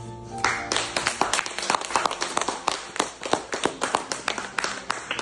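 Sustained clapping from a wedding audience during a candle-lighting ceremony, many hands beating in a dense, fairly close rhythm that carries steadily from start to finish.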